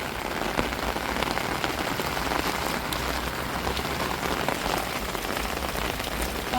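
Heavy rain pours steadily over a village, a dense, even hiss of drops hitting surfaces with no pauses, close and loud throughout.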